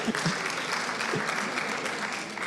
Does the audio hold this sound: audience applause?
yes